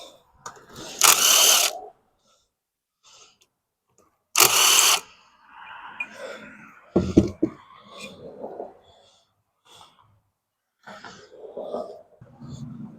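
Power-tool bursts during removal of the hot coil from a Racer Proquip 236cc engine: two short loud whirring bursts, then clinks, a ratchet-like rattle and scattered mechanical handling sounds in a quiet workshop.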